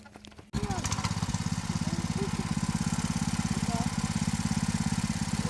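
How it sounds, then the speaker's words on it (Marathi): A tractor engine in a field for ploughing fires up after a brief quiet moment, then settles into a loud, steady, rapid chugging that runs unbroken to the end. "मामा आत्ताच इलो ट्रॅक्टर घेऊन गणपणाबरोबर"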